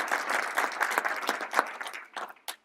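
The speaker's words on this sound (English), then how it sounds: "Good applause for that" Audience applause at a CalOptima health plan board of directors meeting, a spread of claps that rises fairly loud, holds, then thins into a few scattered final claps.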